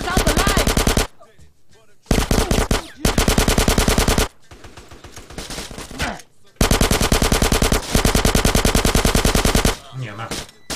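Loud, close machine gun fire in GTA San Andreas rattles in long rapid bursts separated by brief pauses, with a few faint voices between volleys.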